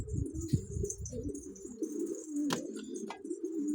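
Pet birds, likely doves or pigeons, coo softly and repeatedly in a low, steady murmur close by, with a brief sharp chirp or click partway through.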